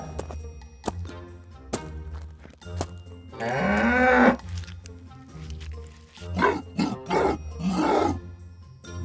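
Cartoon cows on a farm moo in drawn-out, loud calls, one long bellow in the middle followed by several shorter moos, with faint background music and effects throughout.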